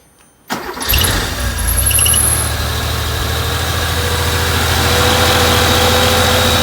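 A 1980 Porsche 911SC flat-six cranks and catches after a moment of silence, then settles into a steady, loud idle close by after an alternator replacement.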